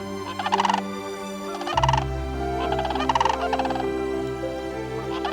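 Sandhill cranes in a flock giving loud, rolling bugling calls in repeated bursts, several birds overlapping near and far over a steady low hum.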